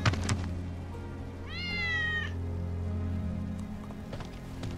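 A cat meows once in Final Fantasy 7 Remake, a rising harmonic call near the middle of the clip over a steady low game ambience, with no talk.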